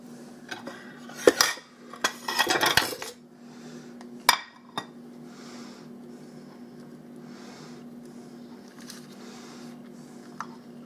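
A cheesecake made in a pressure cooker is pushed up and released from its push-up pan, with close metallic clinks and scraping rattles in the first few seconds, then a few isolated taps over a quiet background hum.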